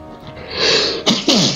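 A person sneezes once, loud and close: a short inhaled buildup and then a sharp burst, with a brief second catch right after.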